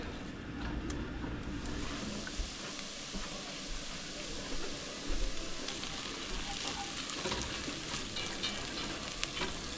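Peppers, onions and chopped jalapenos fry in about a quarter cup of butter, giving a steady close sizzle with soft stirring scrapes and a few light knocks, and no talk.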